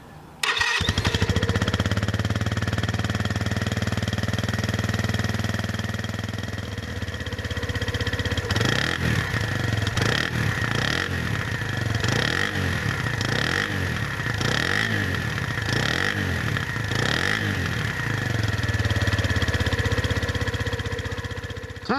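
Bullit Bluroc 125 motorcycle engine idling steadily up close, then blipped through a series of rhythmic revs in the second half, with no talk over it.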